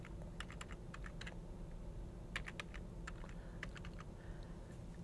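Someone types a password on a computer keyboard, quick clusters of light plastic key clicks in irregular bursts, close and fairly quiet with no talking.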